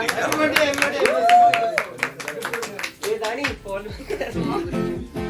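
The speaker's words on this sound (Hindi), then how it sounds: "तालियां।" Hands clapping in applause at a family birthday celebration, a short burst of claps mixed with excited chatter and voices calling out over it.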